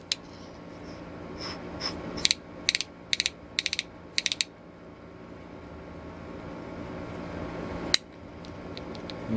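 An 1890s vintage T-handle ratchet brace, restored, clicking as it ratchets: crisp, close metallic clicks in quick clusters of two to four, then a lone click later over a low background hum.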